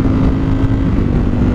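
A 2021 Ducati Streetfighter V4 motorcycle ridden in sport mode gives a loud, steady engine roar mixed with wind rush, continuous and close throughout, with no talking.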